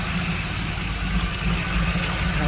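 A 2002 Trans Am with a stage 2 cam idling with no exhaust fitted, a loud, close, steady low rumble with a slightly uneven pulse throughout.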